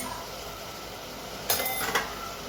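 Onion and potato curry with turmeric being stirred in a pan: a couple of sharp metallic clinks and scrapes of utensil on pan near the end, over quiet kitchen background.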